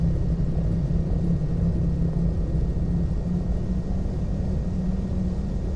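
A Piper PA-34 Seneca twin-engine airplane in Flight Simulator X, a steady low droning engine rumble in flight, continuous and even with no speech over it.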